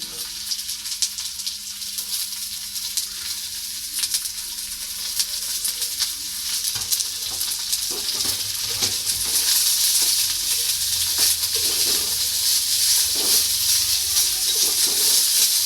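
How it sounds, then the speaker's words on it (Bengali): Carrot pieces fry and get stirred in a pan for soybean noodles, giving a steady hissing sizzle that grows louder halfway through, broken by soft scraping stirs, with no talking. "গাজরটা দিয়ে বেশ 2 মিনিটের মতো নাড়াচাড়া করে নেওয়া হয়েছে।"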